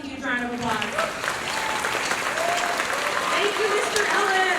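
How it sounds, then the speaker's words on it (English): Applause from an audience at a summer youth band concert, a steady wash of clapping filling the room, with voices talking over it throughout. "a huge round of applause"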